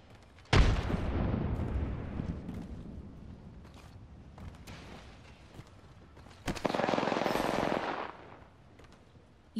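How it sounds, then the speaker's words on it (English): Enemy gunfire in the Apex Legends battle royale game crashes in as a loud burst just after the start, then a second sustained volley of rapid shots around two-thirds through, with quieter rattling between. "The enemies are shooting me."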